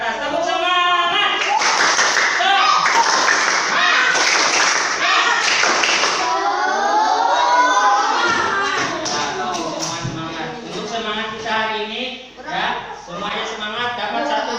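Classroom of elementary schoolchildren doing the rhythmic "tepuk semangat" clapping chant, a steady run of group claps mixed with chanting voices and an adult leading, loud and close throughout.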